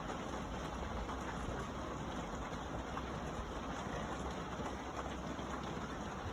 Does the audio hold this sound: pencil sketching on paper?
no